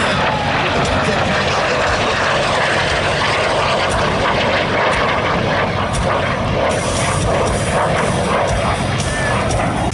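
Lockheed P-80 jet aircraft flying at an airshow, giving a loud, continuous roar with broadband engine noise that holds steady throughout, with crowd and announcer sounds mixed underneath.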